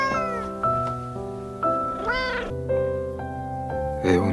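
A pet cat meows repeatedly in a drawn-out, pleading way, with several clear rising and falling cries over a low steady background hum, close to the listener.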